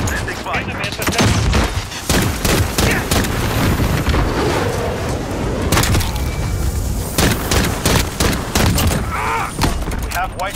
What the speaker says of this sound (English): Got a VTOL on station, ready to deploy. Horseman 321, sending fire.